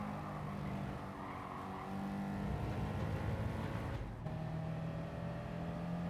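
A 1956 Porsche 356 GT Carrera Speedster engine drones steadily in a racing video game, a buzzy four-cylinder note holding pitch, briefly cutting out with a shift before climbing again, loud and continuous without speech.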